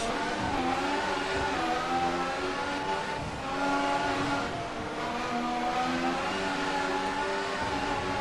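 Formula 1 race car engines in the video game F1 2014 at the Australian Grand Prix, a steady high-pitched whine that rises and falls as cars accelerate and shift, running continuously at close range without talk.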